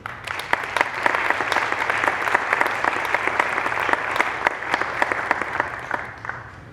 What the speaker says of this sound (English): give a round or a warm welcome of applause to Dan Burton